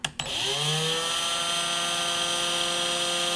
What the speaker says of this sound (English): So I'm going to actuate the drill here.